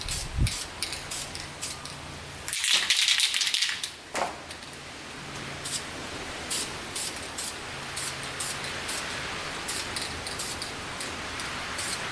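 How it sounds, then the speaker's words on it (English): An aerosol spray can paints a sanded, rust-cleaned Honda quad part in a loud hissing burst of about a second, followed by a series of short spray puffs and rattling clicks up close. "All right, let's paint her up here."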